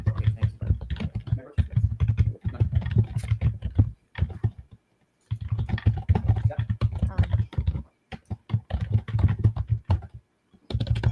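Loud computer keyboard typing in a courtroom hearing setting: rapid, clattering bursts of keystrokes close to the microphone, coming in irregular runs separated by short pauses, with no voices over them.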